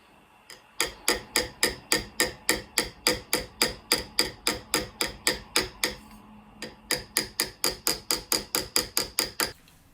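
Small hammer steadily tapping dents out of an old harmonica's metal cover, a long run of sharp, evenly spaced metallic blows close up, with one brief pause midway.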